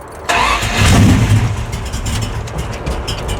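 A hot rod engine cranks briefly and catches, rising into a loud close rumble that settles into an uneven idle.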